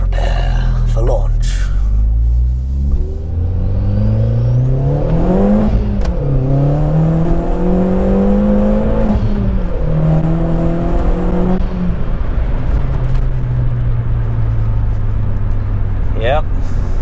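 A Volkswagen Polo GTI launching hard with traction control off. The engine revs up loudly, then climbs through the gears with rising whines and brief drops at each shift, close and powerful, with speech at times.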